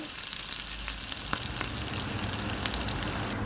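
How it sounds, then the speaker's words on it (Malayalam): Continuous, dense sizzle of small-cut chicken pieces frying in a hot pan over medium flame, close up, with occasional faint pops and crackles. "ചിക്കൻ മുഴുവൻ നിരത്തി വെച്ച് കൊടുത്തതിന് ശേഷം തിരിച്ചു വിട്ട് ഇതിങ്ങനെ ഫ്രൈ ചെയ്തെടുക്കുക"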